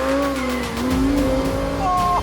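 Lamborghini Huracán Performante supercar cornering on a track, a loud continuous engine note that dips and rises with a thin tire squeal edging in near the end, close and alone.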